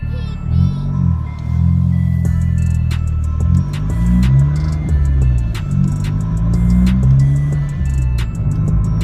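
A Vauxhall VXR with a modified, very loud exhaust accelerates from first gear with short shifts, a deep rumbling drone rising and falling through gear changes, close and continuous throughout.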